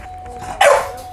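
A single short dog bark in a video game, close and fairly loud, over quiet background hum.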